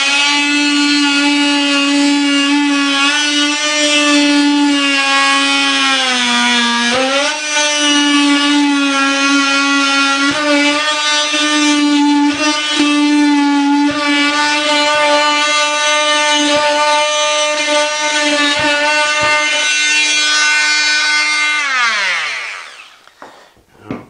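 A power saw cuts through a wooden subfloor beside a joist, a loud, steady high-pitched whine with strong harmonics that holds for about twenty seconds, dips briefly partway through, then winds down as the blade spins to a stop.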